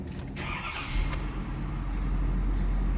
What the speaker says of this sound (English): I can start this truck.